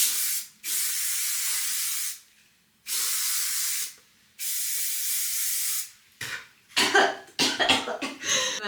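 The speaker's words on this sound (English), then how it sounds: "we're just gonna spray this generously is what I believe you're supposed to do" Paul Mitchell Extra Body Firm Finishing Spray hairspray hisses out in three long, steady bursts close by, followed by coughing and rustling.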